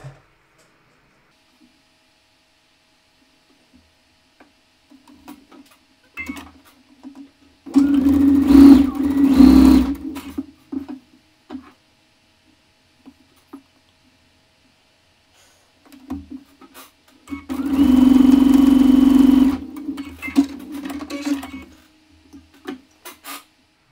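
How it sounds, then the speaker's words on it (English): Sewing machine joining three quilt rows into a gift box block, two separate runs of a steady, close mechanical hum and rattle, each lasting a few seconds, with quiet handling sounds between them. "now we're just going to sew our 3 rows together"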